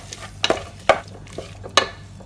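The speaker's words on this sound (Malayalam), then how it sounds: "2 തക്കാളി ഇട്ട് കൊടുക്കണം ഇതിനകത്തോട്ട്. ഇതൊന്നും ഒരുപാട് ഫ്രൈ ആവണ്ട ബട്ടറിൽ," Tomatoes frying in butter for butter chicken, stirred in a pan with a low sizzle beneath several sharp scraping and clinking strokes of a utensil, close up.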